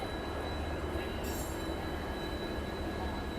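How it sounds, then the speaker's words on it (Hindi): Steady drone of a diesel generator car running on the Jodhpur–Sabarmati Express at a station after shunting, a constant low rumble with a brief hiss of higher noise, heard close and continuous. "बढ़िया से जनरेटर कार चल रहा है उसका।"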